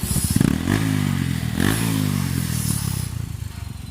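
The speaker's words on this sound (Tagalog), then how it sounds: "Tapos sobrang ingay ng makina." A Bajaj CT150 motorcycle engine revs up close and loud, throttle rising and falling in several surges over a steady mechanical clatter, with the exhaust noise filling the whole stretch.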